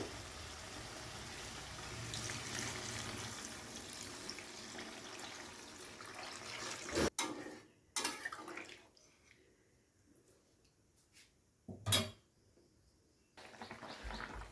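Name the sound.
water poured into pan for fish curry gravy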